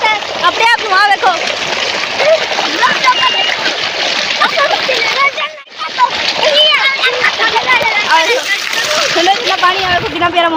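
Water from a tubewell gushes and splashes in a steady, loud, close rush across the whole stretch, with only a brief dip midway, while people talk over it.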